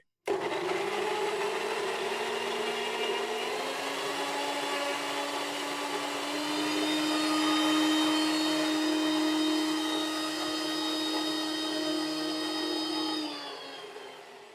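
A kitchen blender whirs steadily as it mixes a sea buckthorn smoothie without ice cubes. The loud motor drone lifts slightly in pitch early on, holds for about thirteen seconds, then winds down and stops.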